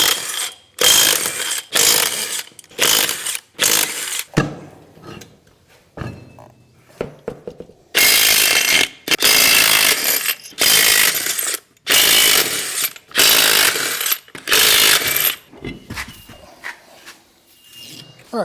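A power tool works the wheel nuts off a Kubota B2601 tractor during wheel removal, giving repeated loud bursts of rattling, ratcheting hammering separated by brief gaps and some clanks of handling, with no talking.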